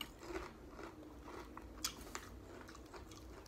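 Crunchy bites into Popeyes fried chicken, several crisp crackling chews close to the mic with a sharp louder crunch near the middle, no talking.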